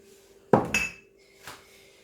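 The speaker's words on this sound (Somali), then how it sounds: "kabacdina waan soo qasayaa si fiican ayaan ugu soo qasayaa" A spoon knocks against a cooking pot while food is stirred, giving two close metallic clanks followed by a fainter scrape and clink.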